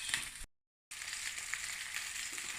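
Tomatoes sauté in a pan with a continuous bright sizzle. A brief total dropout near the start cuts the sound before the frying resumes, steady and close.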